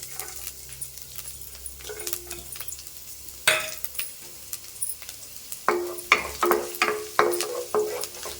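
Finely chopped garlic and ginger sizzle in hot oil in a pan for egg fried rice, with scattered stirring scrapes and clinks that become louder and more frequent toward the end, and no voices.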